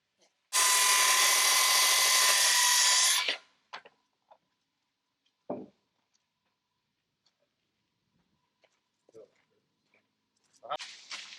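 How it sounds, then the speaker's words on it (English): A power saw rips through a wooden rim joist for the side of a new front deck on an A-frame cabin, one loud sustained cut lasting about three seconds, followed by scattered knocks, small clatter and a brief burst of noise near the end. "now we're just going to be cutting the rim joist for the sides of the deck"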